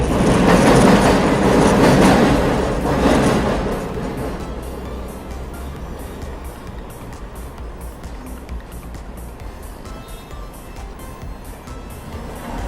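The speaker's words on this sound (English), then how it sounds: "You can hear the train." A train rolls along the rails in the Bronx, New York, loud at first with a roaring rush, then fading to a rhythmic clickety-clack of wheels passing over rail joints.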